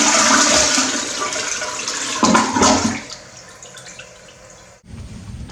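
A newly installed toilet flushes with a loud rushing surge of water that gradually drains away, then the tank begins refilling with a steady hiss after a brief pause.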